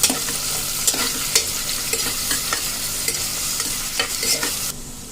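Onions and split green chilies sautéing and being stirred in a pan, a steady close sizzle broken by repeated scraping stirs, with no voices; the frying drops away abruptly at the very end.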